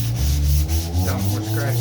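Steady sanding of body filler on the hood of a 1969 Corvette C3, a close, continuous rubbing scrape that swells and eases slightly with each stroke over a low background hum.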